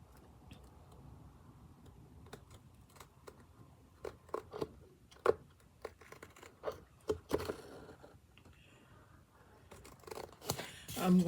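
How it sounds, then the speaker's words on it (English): Scissors snipping a name out of paper for a graduation big-head fan, a series of quiet close crisp cuts and paper rustles, irregular and scattered, louder crunching toward the end. "I'm going to cut the name out."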